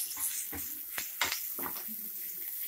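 Curry leaves frying in hot oil, a soft steady sizzle punctuated by several sharp clinks and scrapes of a spoon stirring in the pan.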